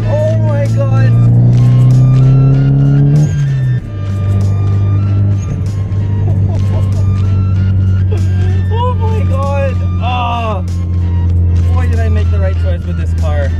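A Mitsubishi Evo X engine drones loudly while driving, its pitch stepping down as it downshifts, with someone talking excitedly over the engine noise.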